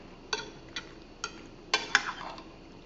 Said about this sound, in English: And then you just stir that in